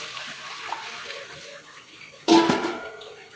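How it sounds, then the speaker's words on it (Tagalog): Water pours suddenly into a cooking pot for dinuguan with a bright splashing gush that continues briefly after a quieter stretch of light running water. "Add lang po tayo ng tubig."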